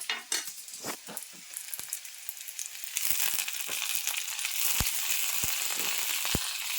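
Tomatoes dropped into hot oil sizzle and fry steadily, the hiss swelling louder partway through, with a few sharp clicks and knocks of a utensil against the pan.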